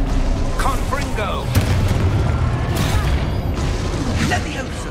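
Fiery Confringo spell blasts in the Hogwarts Legacy video game land as deep booms and rumbling impacts, layered with combat clatter while a voice shouts spell names over the action.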